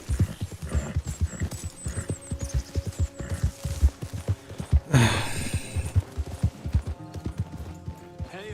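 Horse hooves clip-clop in a steady rhythm as the horse gallops in the Western video game Red Dead Redemption 2, with a brief louder burst midway and a faint hum beneath.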